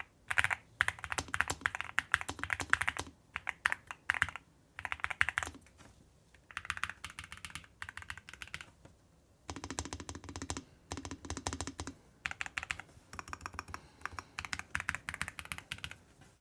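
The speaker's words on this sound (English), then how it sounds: "We're going to do a very quick audio test of the Raspberry switches." Typing on a NuPhy Halo65 V2 keyboard fitted with Raspberry switches, close up: fast bursts of crisp, clacky keystrokes in uneven runs broken by short pauses, with no talking.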